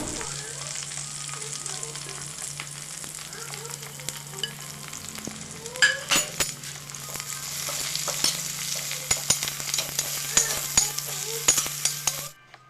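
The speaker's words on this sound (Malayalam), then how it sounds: "ഇതിലേക്ക് മുരിങ്ങയില കൂടി ഇട്ട് എണ്ണയും കടുകും എല്ലായിടത്തും ആകുന്ന പോലെ നന്നായിട്ടൊന്ന് ഇളക്കി കൊടുക്കാം." Moringa leaves are stirred in hot oil with mustard seeds, sizzling steadily up close while a spoon scrapes and clatters against the pan in intermittent bursts, with no talking.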